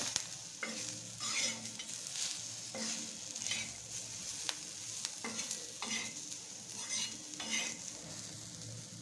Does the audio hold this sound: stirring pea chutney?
yes